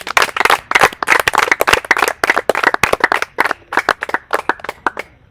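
An audience applauds an instructor at a children's event in the DRC, a dense crowd of hand claps that starts strong and thins into scattered, uneven claps near the end.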